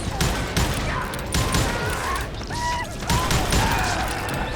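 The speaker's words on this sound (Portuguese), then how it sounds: "eu senti um tiro vindo lá de cima" Repeated gunshot pops and bursts ring out amid noisy, clattering action in the game Call of Juarez: Gunslinger, with a few brief synthetic tones in between.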